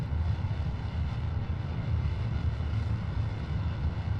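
A low, heavy rumble of a rocket engine being throttled down in Kerbal Space Program, a steady deep roar with faint fluttering texture, continuous and with no voices.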